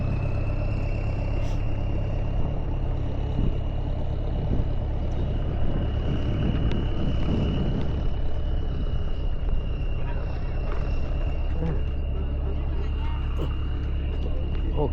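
A motorbike ride through a coastal Malay village on the Anambas Islands, a steady engine drone running loud and continuous throughout, with people talking over it.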